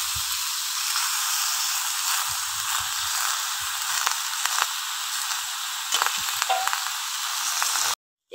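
Potatoes and eggplant hiss and sizzle steadily in hot oil in a frying pan, a loud close continuous frying noise with small crackles.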